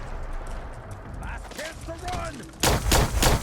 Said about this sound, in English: So the Plasma Wisp makes a fun noise, if nothing else.